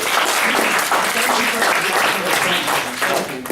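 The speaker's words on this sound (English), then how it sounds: "can we please have another round of applause for our panelists?" Audience applause for panelists at a psychology panel, a dense continuous clapping that stays loud throughout, with voices and murmurs mixed in beneath it.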